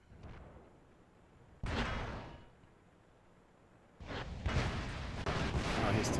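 A Wespe self-propelled artillery gun fires in World of Tanks, with one loud, booming shot followed after a quiet stretch by a second heavy blast that rumbles on over continuing battle noise.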